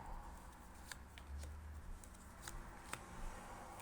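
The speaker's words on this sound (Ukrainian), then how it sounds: "Я можу ще покласти карти." Soft shuffling and slapping of tarot cards being laid down on a surface, a few light taps and flicks, quiet and close with no talking.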